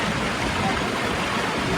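A waterfall pours onto Otrada beach in Odesa, giving a dense, constant splashing rush of falling water that holds steady and close for the whole brief moment.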